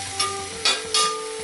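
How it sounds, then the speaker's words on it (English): Chili peppers and a bell pepper gently frying in a pan for a jalfrezi curry, giving a steady soft sizzle with a few louder bursts of hiss as the vegetables are stirred, close by. "We're just going to gently fry them."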